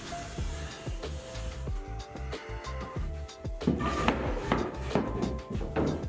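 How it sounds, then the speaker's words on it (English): A utility knife scoring cement backer board for a bathroom floor, a series of close, sharp scraping strokes in an uneven rhythm, growing harsher and denser toward the end. "After a couple of passes, the knife just follows the score line."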